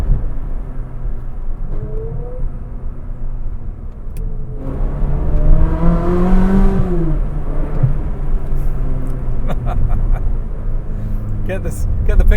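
A Ferrari 360 Modena engine revs up hard from inside the car, a loud rising whine climbing through the revs before easing off, with quieter cabin rumble around it.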